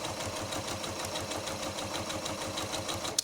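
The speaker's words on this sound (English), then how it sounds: "My machine is sewing." A sewing machine runs steadily, its needle pounding in a fast, even rhythm while chain stitching quilt squares with a quarter-inch seam, loud and close, with a small knock at the end.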